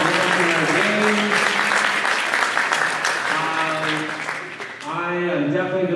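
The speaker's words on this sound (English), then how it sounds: "Give him a round of applause" Audience applause in a school gym on basketball senior night, steady and fairly loud, with a voice speaking over it and voices rising again near the end.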